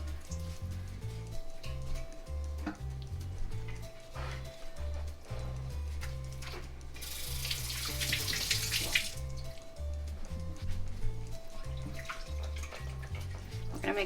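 Small potatoes, snapped in half, are rinsed under a running kitchen tap, with a louder steady rush of water midway over quieter splashing and handling, accompanied by background music.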